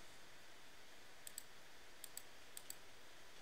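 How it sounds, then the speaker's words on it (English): Faint, sharp mouse clicks advance a Ren'Py visual novel, about six evenly spaced pairs of clicks, close and isolated against a quiet background. "For example, if we click through this"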